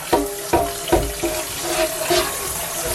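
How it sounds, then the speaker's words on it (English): Hot water from a tap sprays over the top edges of antique stoneware crock bowls, a steady hiss of running water broken by several sharper splashing bursts as the spray strikes the bowl rims. "I do a nice hot water spray down of the top edges of my bowls just to get the edge stuff off."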